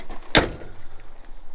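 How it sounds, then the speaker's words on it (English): An old International truck door swings shut on its own with a single crisp, solid slam close by, then fades into quiet background noise. "You can literally let go of the door and it shuts itself that good."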